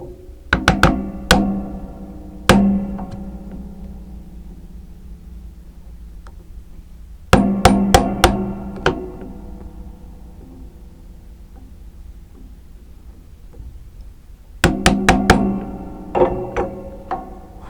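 A chisel is struck to clean out a wooden dovetail joint, heard as three close groups of sharp, ringing mallet taps, each group a quick run of four to six hits separated by quiet pauses.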